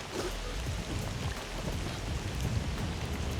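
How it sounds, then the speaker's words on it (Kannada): Steady rain pours down outdoors, a dense, continuous hiss with some low rumble, loud and unbroken, sounding like a sudden downpour with no voices present. "ಸಡನ್ನಾಗಿ ಮಳೆ ಬರ್ತಾಯಿದೆ ಗುರು ಸಡನ್ನಾಗಿ ಮಳೆ ಬರ್ತಾಯಿದೆ"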